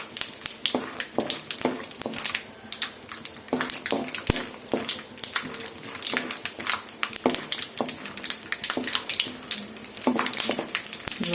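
Peanuts frying in a pan of oil for coconut rice: dense, continuous crackling and popping with scrapes as they are stirred, close and fairly loud.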